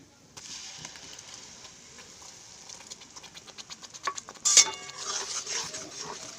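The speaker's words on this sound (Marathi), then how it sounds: "मसाला आणि मिरची पावडर सगळं एकजीव करून घ्यायचं आहे मला हलवत राहायचं" Matki masala and chili powder are stirred in a pan, giving a run of soft rhythmic scraping and tapping that builds louder toward the end, with a sharp metallic clink near the close.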